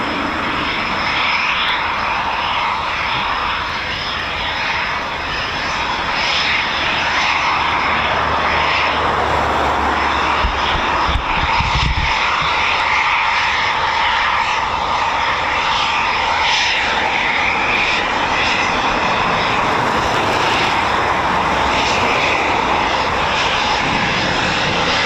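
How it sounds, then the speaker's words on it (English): A Eurofighter Typhoon FGR4 jet slowing down near RAF Coningsby, a steady, loud, broad engine roar that holds without a break, with no talk over it. "just allowing aerodynamics and drag to do its thing to slow down the aircraft."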